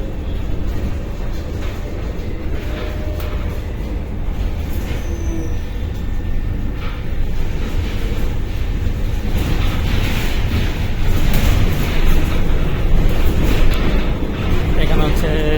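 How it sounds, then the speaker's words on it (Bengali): Inside a running tram, a continuous low rumble and rattle of wheels on rails builds gradually louder, with faint clanks and hiss over a steady mechanical drone. "এই লাইনের মধ্যে হচ্ছে সব থেকে সুন্দর ট্রাম হচ্ছে এটা"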